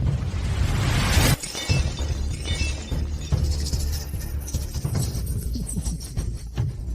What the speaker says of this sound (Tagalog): Nasira. Basag.